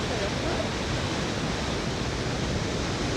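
Rhine Falls waterfall roars as a dense, steady wash of rushing water, loud and continuous throughout the short stretch.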